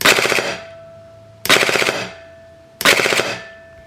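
An airsoft gun fitted with a Perun Clicker fires three short full-auto bursts, each about half a second with a sharp mechanical rattle, separated by brief pauses, close and fairly loud.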